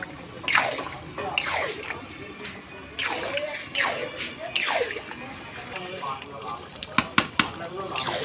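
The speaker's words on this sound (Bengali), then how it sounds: "এবার আমরা এভাবে নেড়ে দেবো, ভালো করে নাড়তেই থাকবো।" Chicken liver is stirred as it fries in a pan, with repeated wet scraping and squishing strokes at a slow rhythm, close up over a low sizzle, and a few sharp clacks near the end.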